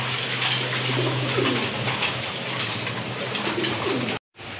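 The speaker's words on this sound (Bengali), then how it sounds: "প্রথমে এক জোড়া কবুতর দেখতে পাচ্ছেন, খুবই সুন্দর।" Pigeons coo softly and repeatedly over a steady low background hum, close by, with a brief drop to silence near the end.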